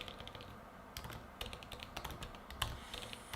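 Quick, uneven keystrokes clatter on a computer keyboard, close and fairly soft, in bursts with short pauses and no voices.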